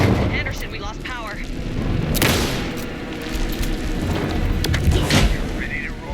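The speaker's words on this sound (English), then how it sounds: "Anderson, pin him down with gunfire for me to get the light on him." Heavy gunfire and booming blasts in the video game Alan Wake 2, with dense rumbling shots and sharp cracks building through a tense battle, while voices shout over the din.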